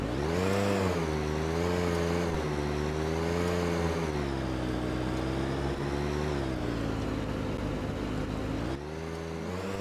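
A VAZ-2103 Zhiguli car engine drones steadily while driving, its pitch sliding up and down as the gears shift, with brief dips between gears; close, continuous and loud, with no talk.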